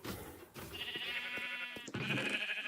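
Sheep bleat on a wool farm in Minecraft, two drawn-out wavering calls in quick succession, moderately clear against a soft game background with no talking.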